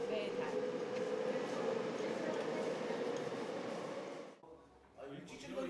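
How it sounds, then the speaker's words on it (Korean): A subway train heading to Yeouido in Seoul rumbles steadily with a loud, constant drone and hum, then the noise briefly drops before rising again. "서둘러 지하철을 타고 여의도로 향합니다."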